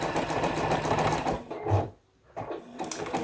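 A sewing machine runs a steady zigzag stitch on a quilt block, with a continuous mechanical chatter for about a second and a half, then a pause and a quieter restart.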